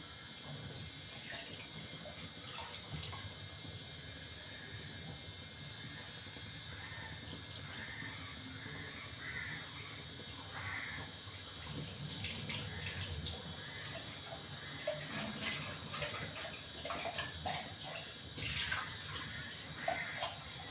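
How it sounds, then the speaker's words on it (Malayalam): Running water splashing inside a pot as it is rinsed, a continuous wash of noise with occasional clinks and louder splashes toward the end. "ഈ പാത്രം ഒന്ന് കഴുകി ഒഴിക്കണം"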